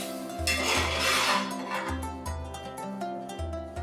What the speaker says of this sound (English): Just let's mix this well.